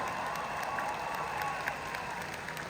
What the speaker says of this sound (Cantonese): 俾多啲掌聲我哥哥